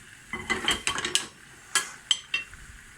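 A spoon clinks and scrapes against a pan while garlic, onions and tomatoes are stirred in oil with peppers. Short, close clattering strokes come in bursts over a faint sizzle.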